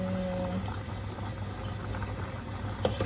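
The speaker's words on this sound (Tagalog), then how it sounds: "Ayan guys, kumukulo na yung ating tubig." Water boils in a pot while a chicken macaroni salad is made, a steady low bubbling hiss running continuously with no talking.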